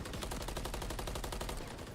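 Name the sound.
gunfire, wall bangs in Call of Duty video game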